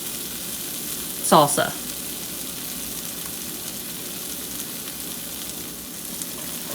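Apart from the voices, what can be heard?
quesadilla sizzling in a pan as the cheese melts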